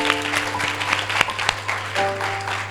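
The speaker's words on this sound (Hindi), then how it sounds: "कोई ताली बजा के प्रभु को धन्यवाद दे" Church congregation at a youth camp sermon clapping in praise, a dense, steady wash of applause with a few sharper claps standing out, over a sustained low hum.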